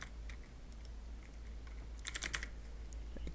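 Computer keyboard typing, a quick burst of several soft clicking keystrokes near the end over a low steady hum, close and quiet, with no talk.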